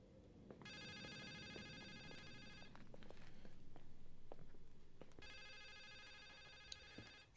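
In the video game The Suicide of Rachel Foster, a telephone rings in two long trilling bursts separated by a pause, over a low rumbling ambience with no talk.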